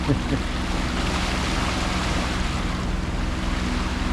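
Tidal water roils and boils around the boat Heron off Vancouver Island, a steady loud rushing churn of surf mixed with wind buffeting the microphone, without letup throughout.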